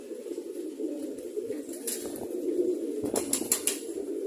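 Pigeons lifting off into morning sunlight, a flurry of wing flaps bursting out in two clusters, the second stronger near the end, over steady low ambient rumble.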